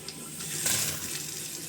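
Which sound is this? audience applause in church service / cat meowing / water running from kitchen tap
water running from kitchen tap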